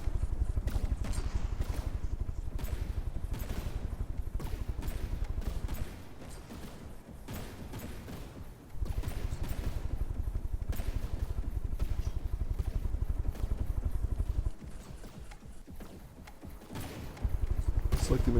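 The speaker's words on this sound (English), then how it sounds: "It appears the Speedy Weenies Revenge has switched targets and is now firing at the fake Santa." Rapid turret shells firing in a robot combat video game match, a dense rattling barrage of shots that stays loud and continuous, dipping briefly in intensity a couple of times before resuming.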